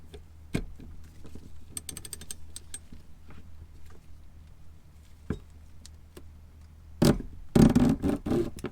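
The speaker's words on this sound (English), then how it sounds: "I'm additionally using my ratcheting breaker bar." Ratcheting breaker bar working loose parts during turbo replacement on a BMW E60 with N54 engine: sparse ticks and clicks, then a louder burst of rough mechanical clatter near the end, close and without talk.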